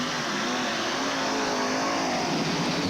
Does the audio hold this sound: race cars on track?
yes